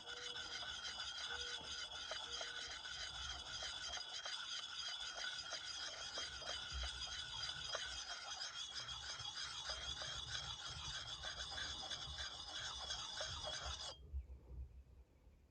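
Hatchet edge being sharpened with steady back-and-forth rasping strokes, a continuous gritty scraping for about fourteen seconds that stops abruptly, quiet and close.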